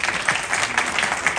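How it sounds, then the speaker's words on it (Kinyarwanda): A church congregation at a wedding service applauds in steady, dense clapping with no voices over it. "mukomere Imana amashyi"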